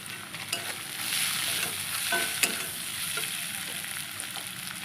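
Ginger paste and turmeric fry in a pan while a spoon stirs, making a steady close sizzle with soft scraping and a few light knocks, and no talking.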